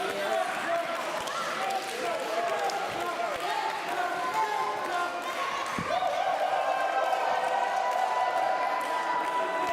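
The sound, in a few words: wrestling crowd cheering for Edward Ripper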